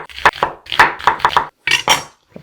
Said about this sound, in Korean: 양파를 채를 썰어주세요